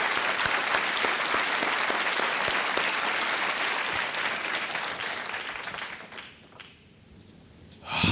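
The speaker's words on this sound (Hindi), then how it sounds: "हम सबको बहुत गर्व है और हम इसके लिए आपको एक बार फिर ताली के साथ स्वागत करेंगे" A studio audience on the KBC quiz show claps loudly and steadily for several seconds before the applause fades out.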